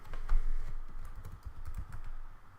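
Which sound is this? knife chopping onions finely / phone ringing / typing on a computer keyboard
typing on a computer keyboard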